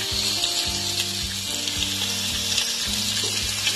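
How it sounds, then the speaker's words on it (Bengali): Tangra fish fry in hot oil, giving a loud, continuous bubbling sizzle that runs the whole time under a faint steady hum, with no talking. "একে একে মাছগুলো দিয়ে দিচ্ছি। ট্যাংরা মাছ একটু সাবধানে ভাজতে হবে"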